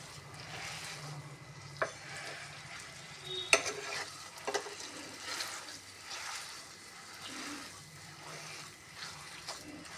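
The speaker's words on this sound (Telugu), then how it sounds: "ఈ విధంగా మొత్తం బాగా కలుపుకోవాలి" Moong dal halwa being stirred in a pan, with a spoon scraping softly through the thick mixture and a faint sizzle beneath, plus a few sharp clinks against the pan.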